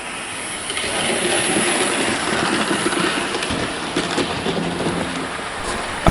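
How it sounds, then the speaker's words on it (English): A model A4 locomotive running as a light engine around a layout gives a steady, continuous whirring rumble with a faint hiss, smooth and even throughout with no voices. "When running around the layout, the locomotive ran smoothly, with no juddering movements or any grinding noises."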